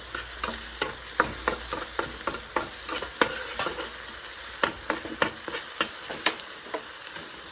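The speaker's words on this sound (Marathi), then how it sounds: "आणि आता थोडा वेळ परतून घ्यायचा आहे बघा असं" Idli upma sautéing and stirring in a pan produces a constant close sizzle punctuated by a rapid, irregular series of sharp spatula taps and scrapes.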